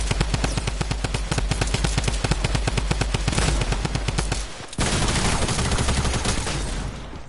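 A drum gun in a video game fires rapid, loud bursts of automatic gunfire, a sustained rattling volley that breaks off briefly and then resumes.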